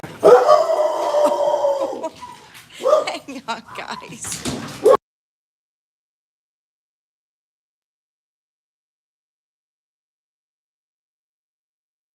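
Several indoor dogs bark and yelp frantically after a quiet tap on the door at a home nail studio, with a person talking over the noise before everything cuts to silence.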